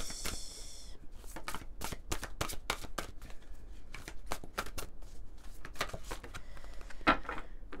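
Oracle cards being shuffled by hand make a close, rapid run of riffling flutters and papery slaps that repeats in quick bursts, with no speech.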